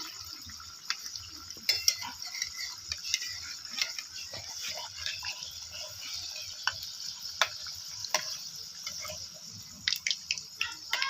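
Chilli fritters for mirchi bhaji fry in hot oil in a pan, giving a steady sizzle, while sharp clicks and scrapes of a utensil flipping them ring out at irregular intervals.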